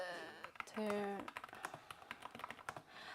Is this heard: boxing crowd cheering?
no